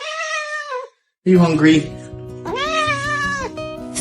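A kitten meows twice, drawn-out and high-pitched, once at the start and again near the end. A person speaks close by in between.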